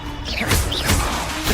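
A Confringo explosion spell blasts in the Hogwarts Legacy video game, a loud crashing burst with swooshing magical sweeps over a short combat moment, repeated impacts across the brief span with no talk.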